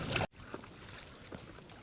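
Wind buffeting a microphone outdoors on open water while someone paddles an NRS Kuda 106 inflatable fishing kayak, a loud gust at first, then steady low rushing with a couple of soft paddle splashes.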